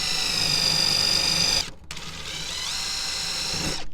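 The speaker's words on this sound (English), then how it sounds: "we're going to clean it up with a brush." A brush or powered tool whirs steadily at a threaded bolt location in a Toyota Tundra, cleaning it for an amplifier ground, with a close, high-pitched mechanical whine that briefly cuts out, then resumes.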